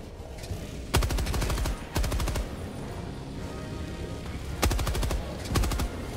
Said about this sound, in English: This is so hard with the machine gun because it's so squirrely.